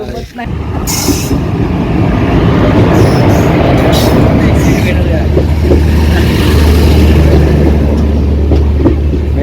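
A Sawantwadi–Diva passenger train on the Konkan Railway pulls into a station with a loud, close, steady rumble of wheels, low engine drone and faint squeals. No one speaks.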